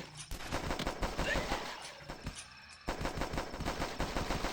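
An old gun in the video game The Last Stand fires steadily: a rapid, evenly spaced stream of shots, moderately loud, broken by one short pause before the rattle resumes.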